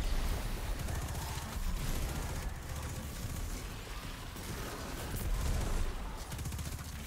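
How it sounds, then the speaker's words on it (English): Gunfire in the shooter game Destiny 2: a dense, continuous clatter of bullets and bursts with rumbling impacts, steady and fairly loud throughout with no voices. "I just hear lots of bullets going off"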